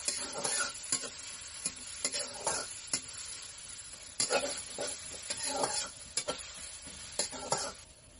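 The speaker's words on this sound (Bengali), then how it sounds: "আমি এখন বেরেস্তার জন্য পেঁয়াজ কুচিগুলো ভেজে নিচ্ছি।" Chopped onions frying in oil for biryani beresta, a steady sizzle broken by repeated scraping strokes of a stirring spoon against the pan, close and clear, with no speech.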